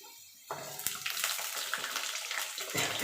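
Drumstick stalks drop into a pan of frying potatoes, starting a burst of hot oil sizzle that keeps crackling close and steady after the pieces go in.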